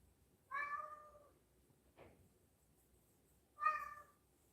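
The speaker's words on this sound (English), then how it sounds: "Meow. What do you want, Mr. Meows?" A cat meows twice, two drawn-out, clear cries separated by a short faint sound, in a quiet room.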